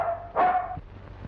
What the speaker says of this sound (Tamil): ஐயாவை கூப்பிட்டா நாய் குலைக்குது